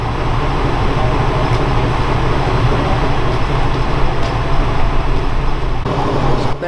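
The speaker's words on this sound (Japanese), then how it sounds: "大垣駅の6番線に垂水鉄道の列車が到着します。" A Tarumi Railway train pulls into platform 6 at Ogaki Station in snowy weather, a loud, steady rumble of wheels and engine filling the whole stretch, close by.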